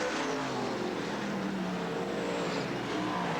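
Race cars roar around the Southern Oregon Speedway oval as a continuous engine drone, loud and steady without breaks.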